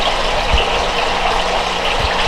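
A pump drives roughly 80 gallons a minute through a PVC filtration system that aerates and cleans bait-tank water, making a steady, close, loud gushing rush with a couple of low thumps and no voices.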